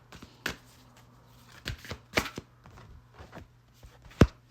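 A deck of cards shuffled by hand during a tarot reading, heard as a series of short, close riffling bursts and soft snaps spaced irregularly, ending in one sharp, louder slap over a quiet background hum.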